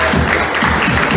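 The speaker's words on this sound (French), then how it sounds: "applaudissements s'il vous plaît" Steady audience applause at an in-store fashion show in a hypermarket, a dense wash of many hands clapping together, loud and continuous.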